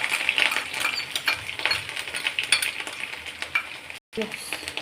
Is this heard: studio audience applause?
no